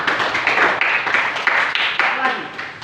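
Students in a math classroom clap together in short rhythmic bursts, several quick rounds of brisk group clapping close by, with voices mixed in.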